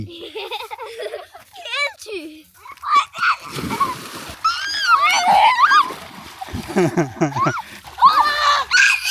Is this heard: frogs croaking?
no